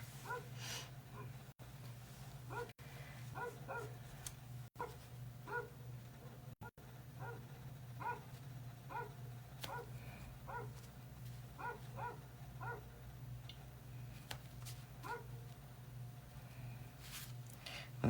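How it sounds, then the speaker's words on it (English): A small dog named Chrissy barks indoors in short repeated yips and woofs at a moderate distance, scattered in loose bursts over a low steady hum. "But now he's gonna bark."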